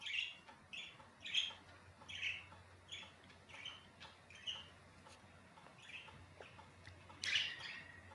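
A pet bird chirps faintly and steadily, giving a string of short, evenly spaced calls about twice a second, with a slightly louder squawk near the end over a soft room hiss.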